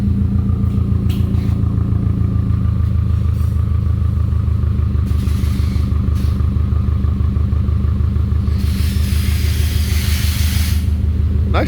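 Subaru engine idling with the AC compressor engaged, a steady low rumbling drone with a faint rhythmic pulse and occasional hiss, close and continuous throughout.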